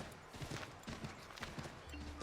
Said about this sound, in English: we just have more like frontier horse riding